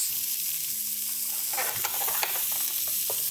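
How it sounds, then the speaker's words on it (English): Onions and carrots sizzle in a hot pan, a constant close frying hiss broken by clattering stirring and scraping sounds in the second half, with no voices. "I'm putting the onions and the carrots in first"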